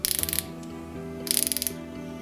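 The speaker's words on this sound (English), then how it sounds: "Each tool features a square drive for use with socket accessories and a single direction ratchet" A single-direction ratchet on a Torqueleader TSN preset slipping torque wrench with a square drive, giving two quick runs of rapid, close metallic clicks separated by a short pause, over a faint steady hum.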